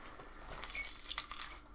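A bunch of keys jingles and clinks briefly as it is picked up, a light metallic rattle close by in an otherwise quiet room.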